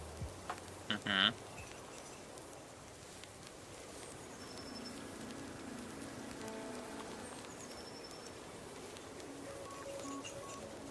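Steady, soft rain patters on a surface, a continuous gentle hiss with scattered drops and a couple of brief knocks near the start.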